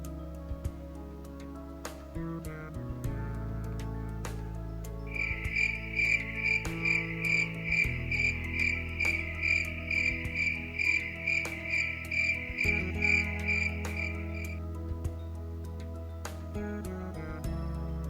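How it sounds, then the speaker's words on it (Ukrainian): A cricket chirps in a steady, rapid pulsing trill for several seconds over a constant low background hum. "Цвіркун цвірчить."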